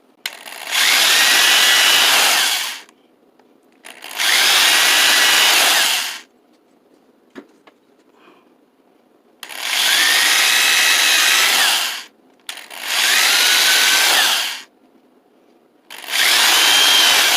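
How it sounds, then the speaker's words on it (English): A power drill whirs loudly through the wood of a cart in five long bursts, each a couple of seconds, separated by brief quiet pauses. "Now I'm going to have to drill through it."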